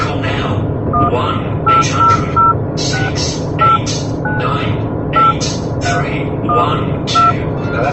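Telephone dialing tones during a radio call-in show, a quick series of short touch-tone beeps in irregular clusters, loud and clear over a steady low rumble.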